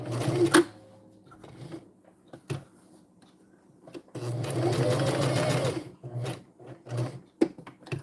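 A sewing machine with no needle-down stop option runs in several bursts of rapid stitching, separated by pauses with mechanical clicks and taps, close and fairly loud, with no talk.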